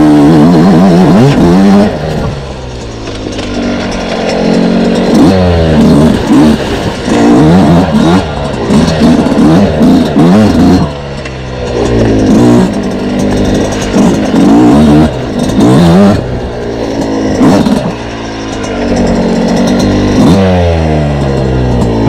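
A 2026 Yamaha YZ125X two-stroke dirt bike climbs uphill close by, its loud, raspy engine revving up and down in repeated surges with brief dips between pulls, chattering under load the whole time.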